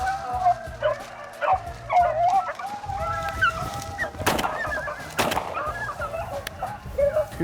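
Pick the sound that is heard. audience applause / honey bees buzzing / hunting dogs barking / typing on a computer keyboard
hunting dogs barking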